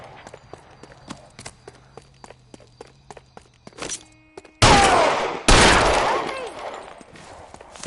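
Running footsteps patter through a 1940s Los Angeles chase in L.A. Noire, then two loud, close bursts of gunfire roar out, each followed by a lingering echoing tail.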